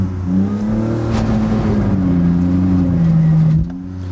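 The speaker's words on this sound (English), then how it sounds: "that's how you can sit there and do a burnout" A BMW engine revs hard and steadily during a burnout, with the clutch dumped while brake and throttle are held, producing a loud, sustained droning roar with wavering pitch that drops off near the end.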